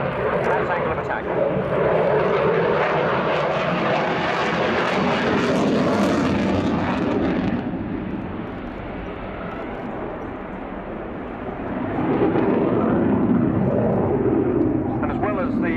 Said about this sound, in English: the aircraft is probably accelerating from 180 knots to full reheat